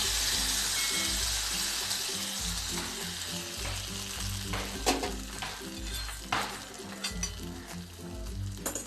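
Coconut and curry leaf tempering hisses and sizzles steadily as the hot mixture is poured into a green gram curry, with soft clinks of a pan and spoon and no voices.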